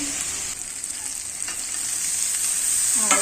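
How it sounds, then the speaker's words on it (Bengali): Potatoes sautéed and stirred in a pan, a loud continuous frying hiss with soft scraping of a spoon throughout and a brief clatter at the very end. "অনেকটা কষানো হয়ে গেছে আর আলুও সেদ্ধ হয়ে গেছে"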